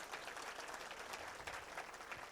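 A crowd at a Diwali celebration gathering applauds, a dense, even patter of many hands clapping together, heard from some distance and fairly faint, sustained without a break.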